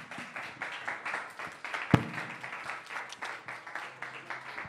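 Light, fairly sparse applause from a small audience after a session, with rhythmic individual claps at moderate distance and one sharp louder knock or clap standing out near the middle.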